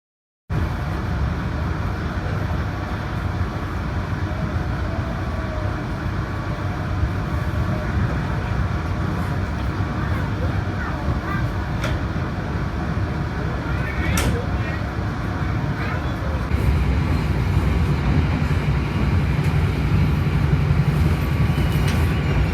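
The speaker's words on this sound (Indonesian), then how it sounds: "rangkaian kereta api Gaya Baru Malam Selatan telah tiba dan berhenti di stasiun Cirebon Perujakan" Gaya Baru Malam Selatan passenger train standing at Cirebon Prujakan station, a steady low rumble of idling equipment and station ambience throughout, with faint clanks and brief sounds of activity around it.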